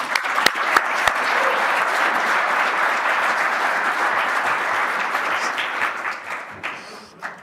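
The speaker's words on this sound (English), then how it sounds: "Real quick, another round of applause for these guys." A convention audience applauds a panel, dense steady clapping from a large crowd with a few sharp nearby claps at the start, tapering off toward the end.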